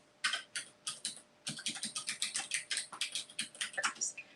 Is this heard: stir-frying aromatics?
no